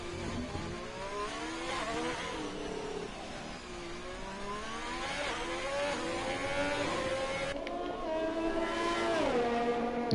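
Race car engine in a Monaco round of a racing series, echoing through the tunnel, a loud harmonic howl climbing repeatedly through the gears with brief shift dips, steady and close across the whole stretch.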